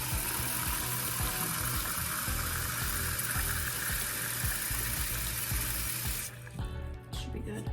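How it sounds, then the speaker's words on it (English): Hot tap water runs steadily into a mason jar at a kitchen sink, a loud continuous rushing hiss that cuts off abruptly near the end, leaving a quieter room. "I'm just gonna fill up this mason jar full of water"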